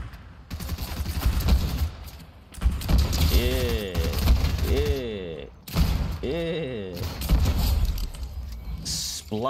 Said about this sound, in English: It's like gunshots everywhere.